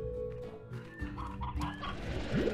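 Chickens in the video game Slime Rancher, a cluster of soft clucks and chatter over a busy game background, fairly quiet and continuous.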